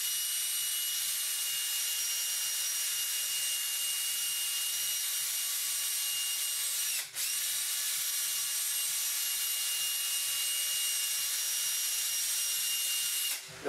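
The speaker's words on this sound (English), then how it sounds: "use a power drill, and let the sandpaper do the work." A power drill spins sandpaper against acrylic being polished, giving a steady high whirring hiss with a faint rhythmic rubbing beneath, continuous and close, with one brief interruption midway.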